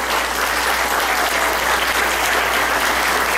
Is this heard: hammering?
no